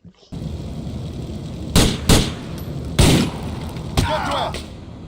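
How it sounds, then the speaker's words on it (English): Gunfire in Grand Theft Auto IV comes as several sharp shots, spaced irregularly over a steady game background, with a last burst trailing into a brief rattle. "he would either keep shooting the wall or get shot by someone else before he even had the chance to hit anyone"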